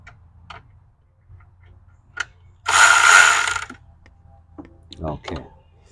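A ratchet threads a bolt back in during starter and intake manifold work on a 2007 BMW 525i, giving a rapid clicking burst in the middle with scattered tool taps and faint shop noise around it.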